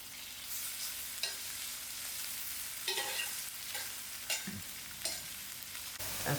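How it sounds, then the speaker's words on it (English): Onions fry in a pan, browning over the heat, with a constant close sizzle broken by periodic scrapes and clinks as they are stirred. "fry out my onions properly. I will allow this to brown out."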